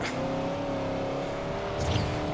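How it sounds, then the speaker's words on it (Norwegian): Dodge Challenger in a racing video game roars past with a steady, tonal engine drone, loud and close, with a brief rise in intensity toward the end. "Han kjører selvfølgelig en veldig kul Dodge Challenger forbi deg."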